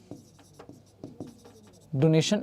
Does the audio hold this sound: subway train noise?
no